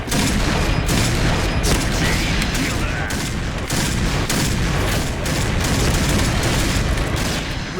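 Heavy, continuous gunfire from a Barrett rifle in the Point Blank shooter game, dense overlapping shots and booms packed tightly across the whole stretch, loud and unbroken.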